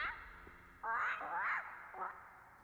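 Pumperum, a character in the video game Dark Souls 3, gives out bird-like calls: a few short, bright quacking squawks that rise and fall, sounding close and clear over a quiet background.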